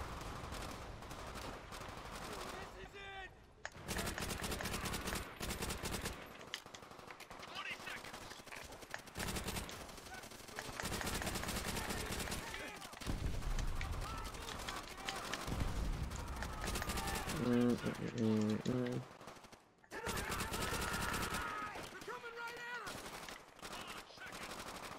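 Automatic weapon fire in the World War II shooter Call of Duty: World at War, rapid bursts of gunshots repeating through the stretch with short quiet gaps, loud and close.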